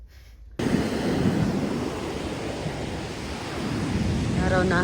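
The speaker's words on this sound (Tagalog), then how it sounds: "Pero ganito pa din yung waves." Ocean waves break at a beach in Baler as a steady, loud surf roar mixed with wind buffeting the microphone. It starts abruptly after a quiet moment, and a brief voice is heard near the beginning.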